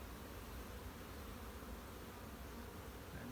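Honeybees buzzing in an open beehive, a dense continuous drone close to the listener, steady and even throughout with no talk.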